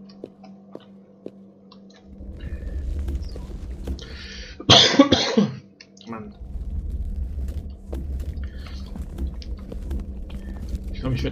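A German-speaking man with a cough, playing the video game Creativerse, coughs once in a short harsh burst in the middle of a quiet stretch, with faint ticking and low rumbling from the game around it.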